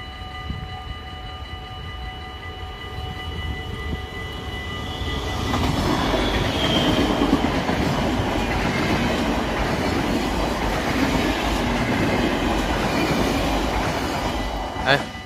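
A train rolls past a trackside spot where trainspotters stand, the rumble and clatter of the wagons swelling at about six seconds and staying loud and close until the end.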